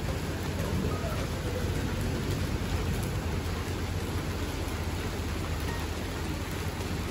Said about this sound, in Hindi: आज फाइनली बारिश हो ही गई।